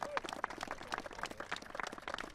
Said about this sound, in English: can we give a round of applause to the PDP Clean Team for all the work that they do in downtown